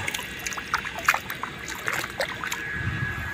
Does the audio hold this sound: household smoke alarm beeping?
no